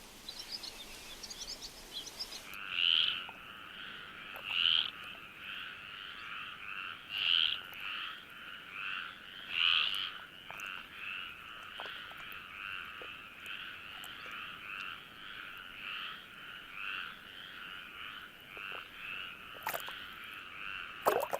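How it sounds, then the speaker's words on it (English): A chorus of stripeless tree frogs calls at night, with repeated rhythmic croaking pulses at moderate distance, continuous and layered over a faint background. "Stripeless tree frogs are also common. They reserve their mating chorus until nightfall."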